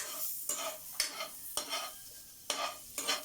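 Onions sautéing in a little oil are stirred through a pan, with about six scraping strokes at an uneven pace over a steady close sizzle. No one speaks.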